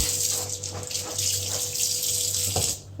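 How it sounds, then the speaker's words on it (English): Dirty water being squeezed out of goalkeeper gloves over a sink, a continuous close splashing and running-water hiss with faint rhythmic surges, fading near the end. "I'm just squeezing the gloves strong in order to remove all the dirty water"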